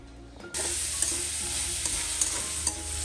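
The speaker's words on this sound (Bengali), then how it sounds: "এখন আমি ভালো মতো করে কাঁচামরিচ শুকনো মরিচ পেঁয়াজ রসুন দিয়ে ভাজিটা করে নিচ্ছি" Boiled taro fries in a pan with green chilies, dried chilies, onion and garlic, starting abruptly as a loud, close, continuous sizzle with a few sharp spatters and pops.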